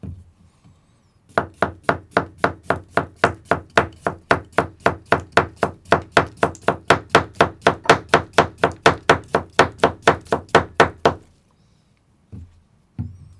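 A Hatsukokoro STRIX Steel Line kitchen knife slicing cucumber on a board, about thirty crisp, evenly spaced chops at a steady quick rhythm that stop abruptly, followed by a couple of soft taps.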